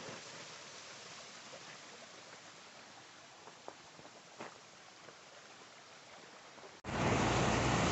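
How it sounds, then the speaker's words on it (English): Water of the Pigeon River flows over small waterfalls in steady broadband rushing, with a few faint knocks, then a sudden louder surge of rushing water at the very end. "Now I'm crossing the Pigeon River."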